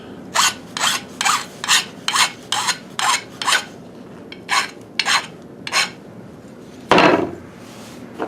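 A hand file rasps across the edges of a cut metal piece to take off burrs, about a dozen rhythmic close strokes followed by a louder scrape, with no voices.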